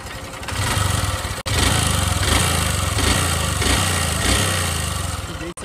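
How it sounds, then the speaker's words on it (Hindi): A Honda Dream motorcycle engine, being customised into a scrambler look, runs close by with a loud, steady mid-pitched drone, briefly cutting out twice before picking up again. "इंजन में भी आपको एक साउंड सुनने के लिए मिलेगा"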